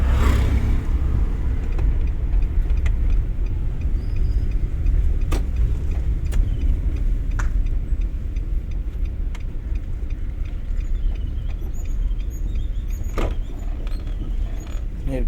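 Car moving along a road during a beginner's driving lesson, a steady low engine and road rumble running throughout with a few faint clicks and knocks, and no voices heard over it.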